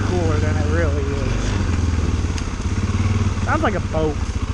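A 500 cc ATV engine idles steadily with a throbbing low rumble, close by, while people talk over it.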